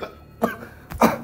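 A man coughs twice in close succession, each burst short and harsh, heard close up with no talk.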